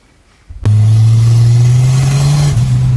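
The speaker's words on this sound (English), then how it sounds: "those tires are pretty loose, hey? Wow! Oh, Jesus, we're sideways for 3/4 of that" Toyota 3RZ turbocharged car engine bursting into a loud, sustained rev after brief quiet, holding a steady roar for over two seconds with a slight dip near the end as the car slides on loose tires.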